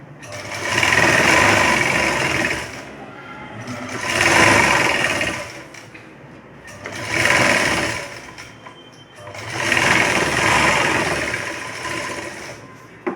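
Sewing machine stitching a simple katori blouse, running in four steady bursts of fast whirring with brief pauses between, close and fairly loud, no talking.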